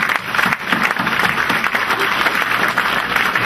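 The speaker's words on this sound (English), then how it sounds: "I want to applaud you." Steady applause from a dinner crowd at a Democratic Party Jefferson Jackson Dinner on Cape Cod, dense and continuous without gaps or speech.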